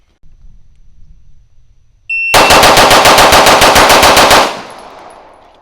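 Rapid gunfire at an outdoor shooting range, with a quick burst of about fifteen loud, close shots fired in fast succession, then a brief fading echo.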